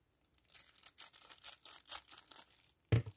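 Quiet, close snipping and crinkling of plastic as scissors cut through packaging, a series of soft scratchy bursts ending with a sharper rustle.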